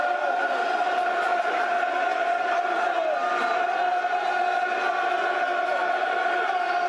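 Football crowd at a Middlesbrough vs Millwall match, a dense, distant roar of many voices with a sustained chanting tone throughout, steady and unbroken.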